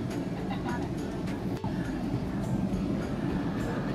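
Economy-class Indonesian passenger train at a station, a steady low rumble with faint clatter that holds at an even level throughout, with a brief dip near the middle.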